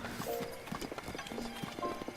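Horse hooves clip-clopping at a run in Zelda: Breath of the Wild, a steady rapid patter of hoofbeats with faint game music tones over it.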